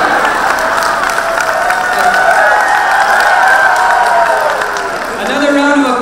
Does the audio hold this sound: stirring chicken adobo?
no